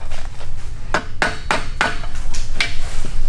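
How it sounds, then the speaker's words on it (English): A hammer taps repeatedly on the carburetor of a cheap Temu two-stroke pit bike to free a stuck float, giving about eight sharp metallic knocks at uneven intervals over a low background hum. "Sometimes you can fix it with a hammer. Just kind of jostle everything in there."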